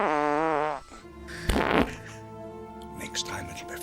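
Comedic fart sound effects dubbed over a movie scene from The Dark Knight or Jurassic Park: a loud, drawn-out, wavering toot, then a shorter sputter, mixed with film dialogue and background sound.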